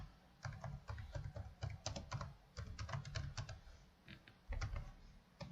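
Rapid clicks of computer keyboard typing in irregular bursts, close and clear, with short pauses between runs of keystrokes.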